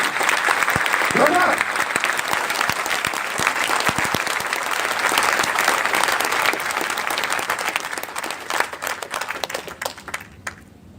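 Loud, sustained audience applause at a direct selling gathering, many hands clapping densely for several seconds before thinning out and fading near the end.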